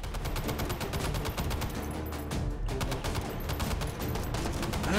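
An M60 machine gun fires in the VR game Hot Dogs, Horseshoes & Hand Grenades, in long rapid automatic bursts with a brief pause midway, loud and close throughout.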